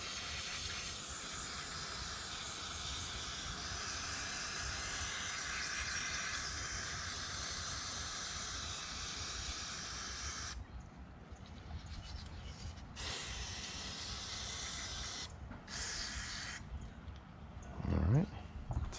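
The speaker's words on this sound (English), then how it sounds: "hit it with some brake cleaner just to clean up the inside because it's a little nasty." Brake cleaner sprays into the top end of a Campbell Hausfeld HL431500 air compressor, a close, sustained aerosol hiss that breaks into shorter bursts toward the end, with a faint voice in the background.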